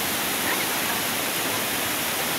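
Water rushing loudly at a hiking spot where a group has stopped, a dense steady roar of turbulent flow that stays constant throughout with no voices.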